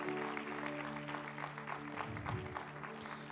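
A church congregation applauds during an evening service, a soft, continuous patter of many hands clapping over a low sustained keyboard hum, fairly distant and faint.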